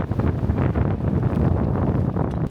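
Strong wind gusts buffet a sailboat at sea, a loud continuous roar and rumble of wind against the microphone and rigging that surges slightly in waves and never lets up. No one speaks over it.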